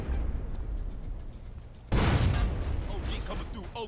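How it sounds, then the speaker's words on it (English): A frag grenade blast in GTA San Andreas Definitive Edition: one loud, sudden broadband boom, then a rumbling tail beneath game sounds and speech. "How about I throw a frag out there for you guys?"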